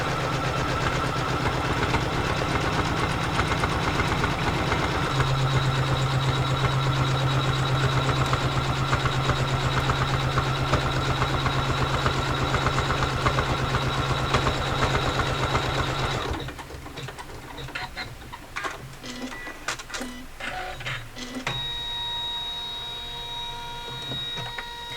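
An embroidery-style sewing machine stitches a quilt block design with a loud, steady, rapid mechanical whir for about sixteen seconds, then stops, leaving quieter clicks and handling noises.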